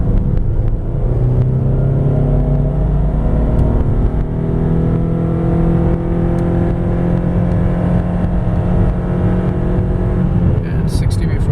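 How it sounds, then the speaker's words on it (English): A 2010 Subaru Outback AWD wagon accelerates hard from a standstill to 60 mph up a hill under full load, its engine droning steadily with rising tone, loud and close from inside the cabin. "we're going to be doing a 0 to 60 acceleration pull"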